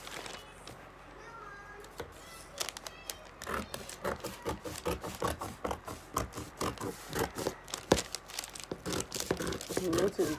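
Paper crinkles and rustles repeatedly as a sewing pattern for a bustier dart is cut out with scissors, with irregular snips and crumpling close by and some background voices.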